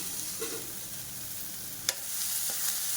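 Cowpeas being stirred in a hot pan with a steady, soft sizzle, joined by a few scraping strokes of a spoon against the metal, with no one talking.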